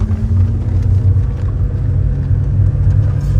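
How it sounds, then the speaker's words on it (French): A BMW E30 cabriolet with its original exhaust, heard while driving: a steady, deep engine drone and low rumble throughout, close and loud with road noise and no talk. "J'espère qu'on entendra un peu le son de la voiture"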